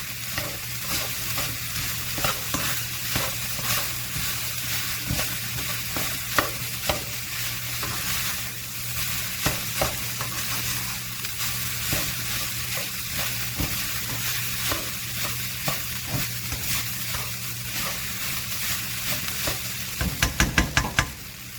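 Cajun fried rice stir-frying in a pan on a home stove, a loud steady sizzle with constant scraping and stirring, ending in a quick burst of spatula knocks against the pan.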